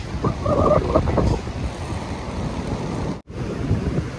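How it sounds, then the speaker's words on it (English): Surf rolls onto a beach in Goa as a continuous broadband wash of breaking waves with wind buffeting the microphone, loud and close, with a brief dropout near the end. "This is the beach."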